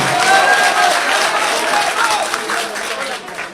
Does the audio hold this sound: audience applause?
yes